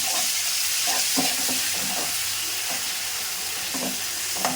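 Browned onions sizzle steadily with masala in a pan for chicken kurma, a continuous frying hiss broken by repeated clinks and scrapes of stirring, close and moderately loud with no voices.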